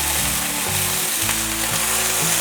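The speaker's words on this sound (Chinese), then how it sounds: "把红喜菇炒香" Red beech mushrooms stir-fried in a little oil in a wok, a steady loud sizzle and crackle with spatula scraping running the whole time.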